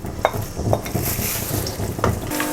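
Garlic fries in hot oil in a kadhai with a soft, steady sizzle, broken by several scraping stirs and light clinks of a utensil against the pan, close by and with no talk.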